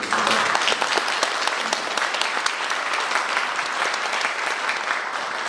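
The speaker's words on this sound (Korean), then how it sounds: "박수 한번 쳐드리죠" Dense, steady applause from a large crowd at a Korean legislator's constituency report meeting, many hands clapping continuously at a fairly loud level with no one speaking.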